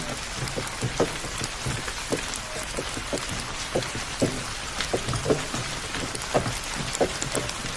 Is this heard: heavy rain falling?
yes